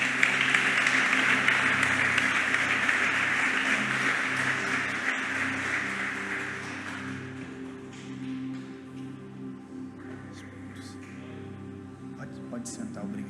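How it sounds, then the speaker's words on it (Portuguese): A congregation claps together during a church worship service, a loud sustained wash of applause that slowly fades over several seconds, leaving voices and a low musical drone underneath. "Vamos aplaudir o Senhor Jesus."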